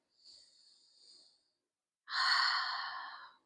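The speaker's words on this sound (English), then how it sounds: "A lot of heavy breathing today." Heavy breathing close up during a reformer stretching workout: a soft, drawn-out inhale, a pause, then a louder, forceful exhale.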